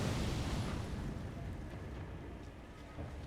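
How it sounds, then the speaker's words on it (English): Explosions in the video game Elden Ring, a dense roaring blast opening loud then settling into a steady rumbling wash with a faint later pop, no voices over it. "I don't like how one guy's explosion interrupts another one and then they don't actually explode."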